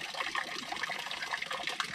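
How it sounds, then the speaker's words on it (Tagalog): Water from a garden hose runs into a small backyard fishpond, a faint continuous trickling and splashing heard up close with no talk. "Diyan lang yung hose para may umaan ng tubig."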